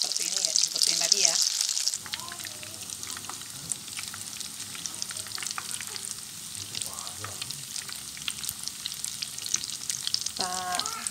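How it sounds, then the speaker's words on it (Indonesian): Tofu pieces topped with quail egg fry in hot oil, a steady close sizzle with louder bursts at the start and occasional clinks and scrapes of a utensil stirring in the pan. "Nah, ini untuk yang telur puyuh ya, kita goreng lagi ya."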